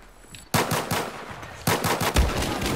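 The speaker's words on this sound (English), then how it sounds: "They're all using shotguns." Shotgun blasts in Battlefield 4 on the Dragon Pass map, two loud, close booming shots with heavy ringing tails, separated by about a second.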